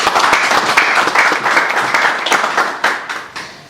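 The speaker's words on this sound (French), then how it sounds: "il mérite nos applaudissements" A crowd at a Rotary Club handover ceremony applauds, dense, steady clapping filling the room and then gradually thinning toward the end, with no speech over it.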